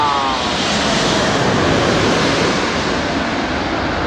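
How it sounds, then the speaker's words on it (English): An Emirates airliner passes low overhead on its approach to land near a London airport, a loud steady roar of jet engines and rushing air filling the whole moment without letup. "Emirates airline just over my head."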